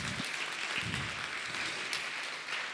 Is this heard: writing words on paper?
no